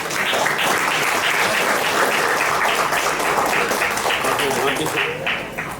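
Loud applause fills a Sri Lankan function honouring a doctor, dense and steady for about six seconds with some voices mixed in before it starts to thin at the very end.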